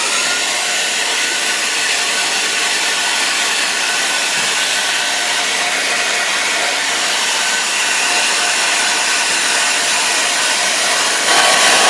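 A dryer blows steadily and loudly at close range for the whole stretch, drying the cord wrap of an iaido sword handle, with a slight rise in force near the end and no talking.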